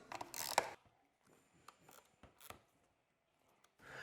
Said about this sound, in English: Make sure the upper and lower Allen key bolts are tight.